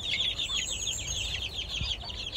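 A flock of fowl, young Japanese-type game cocks, clucks and chirps continuously at close range with no talking.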